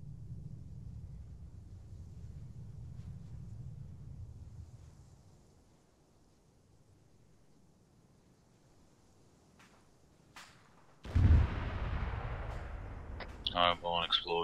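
Explosions in Arma 3 during a military realism unit training session: a low rumbling blast grows into a loud boom near the end, following a stretch of wind-like background noise.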